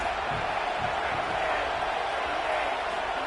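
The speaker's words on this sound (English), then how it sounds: "This crowd trying to make life miserable for this offense." A stadium crowd in College Football 27 keeps up a steady, loud roar at a football game, without letting up, with a commentator speaking over the noise.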